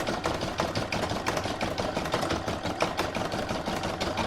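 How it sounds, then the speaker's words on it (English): Embroidery machine sewing a zigzag stitch around the raw edges of light fabric on a poinsettia coaster: a steady, fast mechanical whirring and needle tapping, continuous and close throughout. "I'm going to stitch round number 4, which is going to put a zigzag stitching all around the raw edges of the light fabric"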